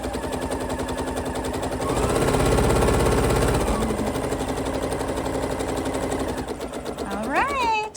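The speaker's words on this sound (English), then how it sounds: "So here's the strap, and we're just sewing it in the center." Domestic sewing machine stitching darts in fabric, a rapid close mechanical chatter that runs steadily throughout and swells in the middle, with a voice talking over it.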